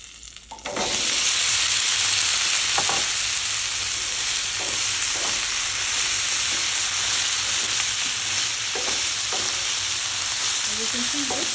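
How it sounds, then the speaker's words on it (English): Cut okra (bhindi) hits hot oil with curry leaves, setting off a loud, steady sizzle that holds for the whole stretch, with a few clacks of stirring. "Now I'm going to add the cut bhindi"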